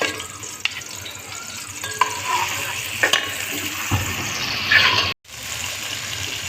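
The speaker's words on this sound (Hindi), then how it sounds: "अब ये जो हमने कीमे के लिए बारीक प्याज काटी थी अब वो शामिल कर रहे हैं।" Finely chopped onions for keema sizzle in a pan as they are stirred, a steady mid-level frying hiss with occasional spoon scrapes and a brief drop to near silence toward the end.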